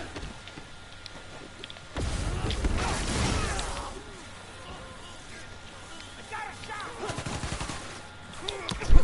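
Gunfire in the Spider-Man: Miles Morales video game, a loud burst of shots starting around two seconds in, then more scattered cracks later, mixed with game sound and voices.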